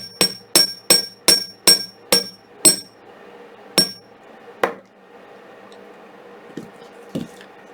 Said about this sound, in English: So I'll hammer the top of this ring,